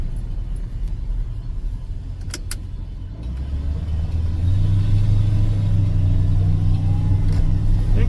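A car driving on a road gives a steady low engine and tyre rumble that grows fuller and louder partway through, heard from close by with no talk.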